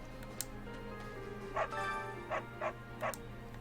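A puppy in Fire Emblem: Three Houses gives several short, bright yips and barks in quick succession over a steady game music bed, moderately close and clear.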